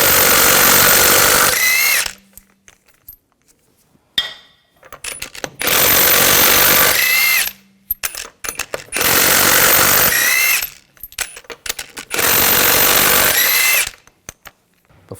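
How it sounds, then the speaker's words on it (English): Impact wrench spinning out the 19mm lug bolts on the right front wheel of a 2000-2006 BMW X5 3.0L, four loud, close bursts of rapid hammering, each about two seconds long, separated by short quiet pauses. "take these lug bolts out."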